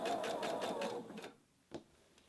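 A sewing machine stitching along the edge of an applique runs in a quick, steady whirring burst for just over a second, then stops, followed by a single soft knock.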